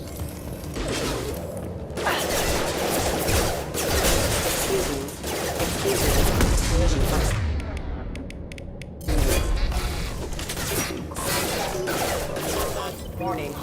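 Dense, continuous gunfire and explosive bursts from the video game Mass Effect 2 fill the scene, loud and chaotic with clattering, booming impacts and only brief lulls.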